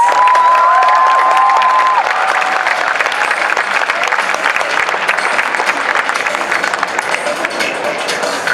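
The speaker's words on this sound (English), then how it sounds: "Big round of applause." Crowd at the OZCC Perth 2016 cosplay competition applauds a contestant, loud continuous clapping with some cheering, while a brief tonal whistle-like sound rings over the first two seconds before the applause carries on alone.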